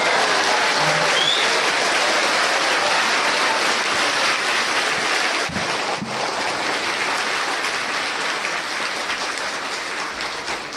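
An audience claps loudly and continuously, a dense roar of many hands sustained for around eleven seconds, close and full, easing only slightly toward the end.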